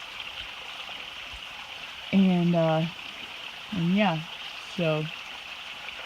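A river on the Appalachian Trail rushes in a steady, even wash of flowing water that continues underneath someone talking in short bursts.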